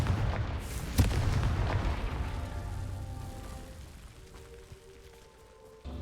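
A Confringo fire spell explodes in Hogwarts Legacy with a loud booming burst, a sharp crack near the first second, and a rumbling tail that fades over several seconds.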